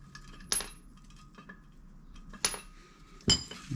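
Metal bolts dropping out of a removed Ford Transit Mk7 front wheel hub, three sharp metallic clinks spaced apart with faint handling noise between.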